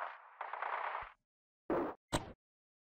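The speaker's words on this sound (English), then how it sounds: "Just after that, I heard another explosion and the video was cut off." Two short, sharp explosion bursts in the video game Steins;Gate 0 follow a brief rumbling noise, with silence between them and a quiet overall level.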